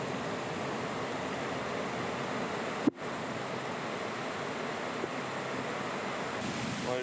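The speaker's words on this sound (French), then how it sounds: "Ouais, c'est un peu la tempête là" Stormy wind and surf pound a Bali beach in a steady, loud, broad roar. A single sharp knock cuts through about midway, and no one speaks.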